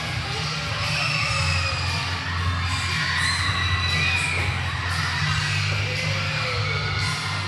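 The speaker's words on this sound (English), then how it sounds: "if I have to listen to this screaming, so do you." Children scream, shout and cheer loudly and continuously as a crowd at a wrestling show, a dense, sustained roar of high young voices with no break.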